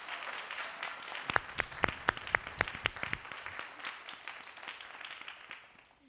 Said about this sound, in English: Please join me as we welcome Dr. Lewis with a round of applause.